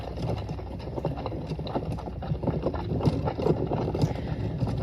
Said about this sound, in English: Yeah, so we're just enjoying our carriage ride for a little bit.